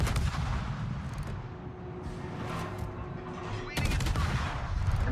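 Heavy naval guns boom in a World of Warships battle, a rumbling salvo at the start and another at the end with a low droning roar between them.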